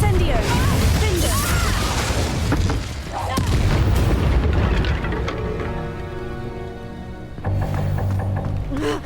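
Confringo blasting spells go off in Hogwarts Legacy as heavy booming explosions, loud and near, with a rumbling tail and a tonal magical whine, and a voice speaks briefly over the effects.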